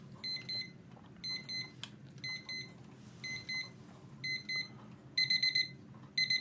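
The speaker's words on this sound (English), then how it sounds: "demonstrate the alarm too, so you can actually hear what the alarm sounds like" A desk alarm clock beeps in short repeated bursts of rapid electronic tones, growing louder toward the end, over a low background hum with no talking.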